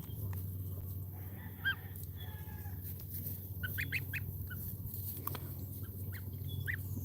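Bar-headed goslings give faint, scattered peeping calls at close range over a low steady hum, with short chirps repeating irregularly throughout.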